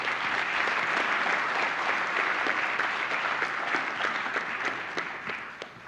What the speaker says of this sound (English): please join in a final round of applause for our first group of subject award